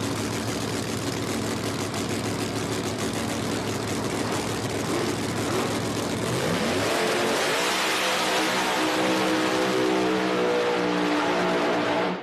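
A drag race car making a solo pass at a Beat the Champ event in Qlispe, Washington roars loudly, its engine revving hard with a rising pitch as it launches and accelerates down the track.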